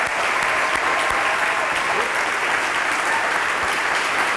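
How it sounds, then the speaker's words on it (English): A crowd at an end-of-summer celebration applauds its interns, a thick continuous roar of many hands clapping at steady, full volume from start to finish. "how about one big round of applause for all of our outstanding interns here."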